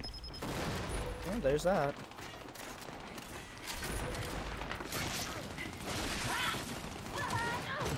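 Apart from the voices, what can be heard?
gunfire in Gears of War video game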